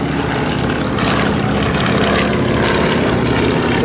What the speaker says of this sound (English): Same 220 horsepower Continental R670 radial engine.